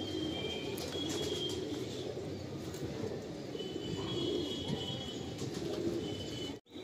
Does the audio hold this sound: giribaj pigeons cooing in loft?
yes